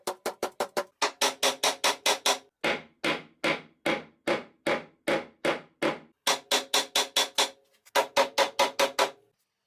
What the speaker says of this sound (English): I use a mallet and a wooden block to carefully tap until the dowels are fully inserted into the holes.